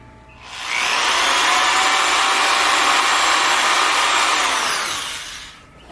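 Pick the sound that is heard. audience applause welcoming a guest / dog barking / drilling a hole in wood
drilling a hole in wood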